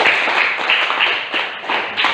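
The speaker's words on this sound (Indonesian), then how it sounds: "boleh tepuk tangan" A classroom group claps together in a short, brisk round of applause. The claps are fairly loud and dense, with a few pulses standing out over about two seconds.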